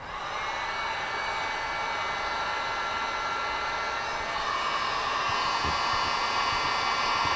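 A heat gun or hair dryer blows hot air onto a Corvette bow tie emblem, a steady whooshing roar held at an even level the whole time.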